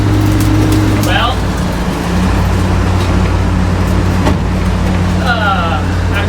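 A Studebaker car's engine running with a loud, steady low rumble and constant hum, with a couple of brief higher chirps over the drone.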